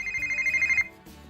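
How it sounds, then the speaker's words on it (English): A phone ringtone plays a bright, trilling electronic ring that pulses rapidly for under a second and then stops, followed by a brief quieter tone. "So this is one of the ringtone"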